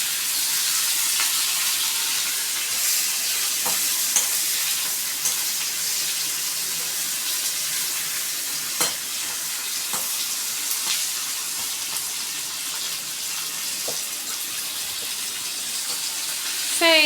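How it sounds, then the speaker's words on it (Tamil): Ingredients sautéing in a pan give a steady, close broadband sizzle that runs alone throughout, with a few sharp clicks and scrapes scattered through it and a brief louder knock at the end. "இந்த பக்கம் இதை நம்ம நல்லா வதக்கிக்கலாம்."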